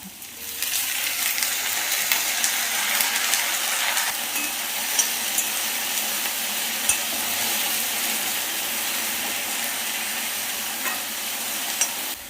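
Chopped okra sautés in a pan with sliced shallots and green chillies, a steady bright sizzle with occasional light clinks of stirring, close and continuous with no talking.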